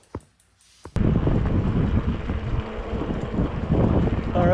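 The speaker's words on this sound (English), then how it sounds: "wind's blowing, so I don't know how much this you're gonna hear" Loud wind buffeting a microphone during a ride on a GT Aggressor Pro mountain bike, a steady roaring rumble that starts abruptly after a second of near silence and continues throughout.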